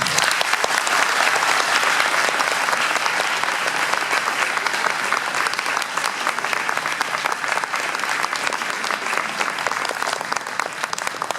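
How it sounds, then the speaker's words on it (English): Audience at an eighth-grade award ceremony applauds steadily, a dense, loud wash of many hands clapping that holds evenly for the full stretch without fading. "Let's give one more round of applause for Mr."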